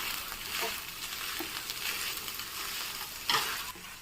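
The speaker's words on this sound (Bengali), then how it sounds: "আলুটা আমি ভালো করে ম্যাশ করে নিচ্ছি।" Boiled potatoes are mashed and fried in a pan, giving a steady close sizzle with scraping and stirring strokes of a spatula and a sharper clack near the end.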